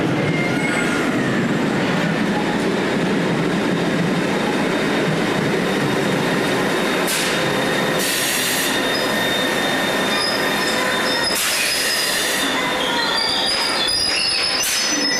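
A London train rolls past close by, its wheels letting out high, sustained squeals over a steady rumble, with sharper screeches rising partway through.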